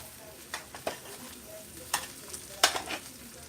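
Breaded pork chops browning in a skillet, a steady low sizzle with a few clicks and scrapes of a utensil against the pan scattered through it.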